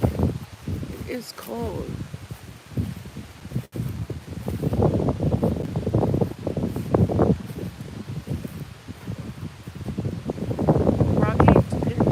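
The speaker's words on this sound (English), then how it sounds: "What a windy day." Wind gusts and rustling leaves in a pet cemetery at Pine Ridge, Dedham, Massachusetts, on a cold day, a steady breathy rush with wind buffeting the microphone beneath a person talking throughout.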